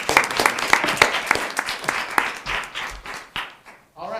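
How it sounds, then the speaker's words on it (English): Parents and attendees at a school board meeting clap for a middle school student, a burst of applause with some distinct claps that thins and fades out after a few seconds, with some voices mixed in. "So another clap for Jake."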